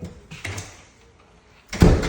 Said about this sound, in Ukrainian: Двері закрий.